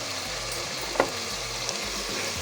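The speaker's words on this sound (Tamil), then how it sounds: "எல்லாம் ஒரு 2 நிமிஷம் நல்லா காய்கறியெல்லாம் வதங்கட்டும்." Chopped vegetables sautéing in oil in a pan for vegetable brinji, a steady low sizzle throughout with a brief soft clink of a spoon near the middle; no one speaks.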